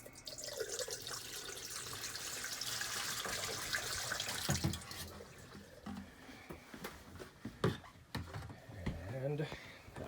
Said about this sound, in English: take the remaining RV antifreeze, just kind of top off the P traps, just kind of pour a little bit in there